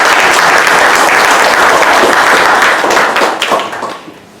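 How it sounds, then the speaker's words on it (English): Loud, dense applause from an audience at a community meeting about the historic Old Monterey County Alisal Jail in Salinas, California, sustained and then tapering off. "Give him a round of applause, everybody."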